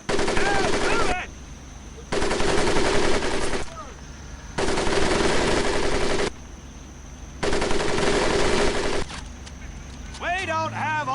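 Machine-gun fire in the WWII shooter Medal of Honor Pacific Assault, loud sustained bursts of rapid automatic shots in four long stretches with brief pauses between, over a steady low rumble and a voice in the background.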